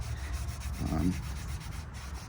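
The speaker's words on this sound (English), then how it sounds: "then you just spend some time rubbing it into the grain" A hand rubs finish into the grain of a cedar bread bowl carved from a log, making a close, soft, continuous scrubbing swish that swells briefly in the middle of the short stretch. No one speaks.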